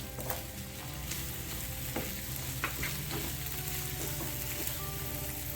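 Capsicum and tomato sautéing in a hot pan for paneer kathi rolls, a dense continuous sizzle with occasional spatula scrapes and taps, close and steady.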